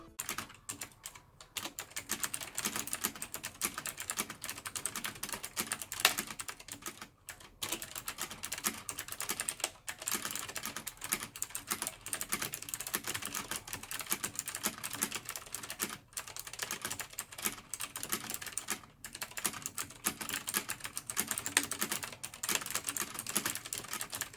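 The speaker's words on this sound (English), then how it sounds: "This is the typing sound." Steady typing on an HP Omen Sequencer optical keyboard, a dense continuous stream of crisp key clicks at an even pace, close and alone with no talk.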